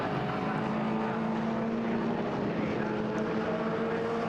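Racing cars including an Audi TT and Mazda MX-5s at Brands Hatch circuit, heard as a steady, fairly faint engine drone with a tonal hum that holds throughout, with no distinct pass-by.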